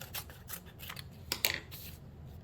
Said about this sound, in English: Cut this out.